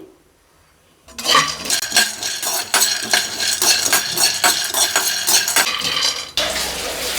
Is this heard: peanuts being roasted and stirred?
yes